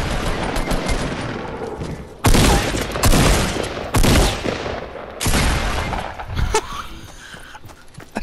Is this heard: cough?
no